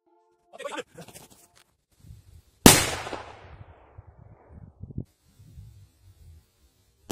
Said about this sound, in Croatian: idemo da testiramo sad Hammer petard